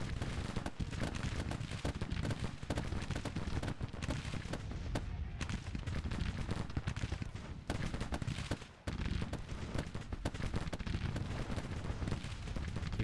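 Battle gunfire in the Grand Tactician strategy game, a continuous dense crackle of massed musket volleys and booming artillery that rumbles loud and unbroken, with only a brief dip near the end.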